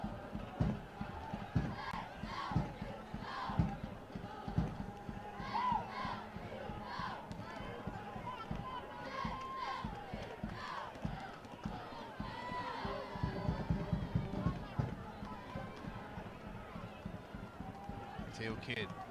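Crowd noise from the stands at a men's college soccer match, SLU versus SIUE, with cheerleaders rousing fans; a steady murmur with scattered shouts and swells throughout, under continuous play-by-play commentary.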